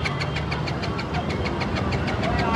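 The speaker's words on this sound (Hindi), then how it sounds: "ये देखो आवाज़ आ रही है, चालू ही नहीं हो रही गाड़ी" A car that won't start, with its plugs fouled after an accident, keeps running its starter in a steady, rapid, continuous churn close by. The noise is loud and fills the whole stretch without any clear catch or pause.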